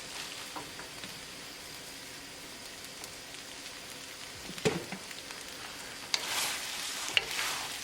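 Spaghetti with mixed vegetables and Parmesan cheese is stirred in a pan over a faint, steady sizzle, with scattered scraping stirs and a louder burst of tossing near the end.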